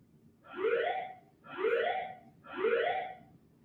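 Fire alarm in a building, three identical rising whooping tones repeated at an even pace, clear and moderately loud.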